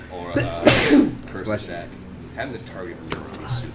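A single sharp sneeze bursts out near the microphone during a tabletop card game of Magic: The Gathering, surrounded by ongoing casual conversation between players.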